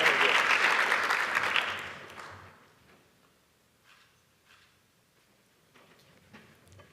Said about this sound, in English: Round of applause for Drew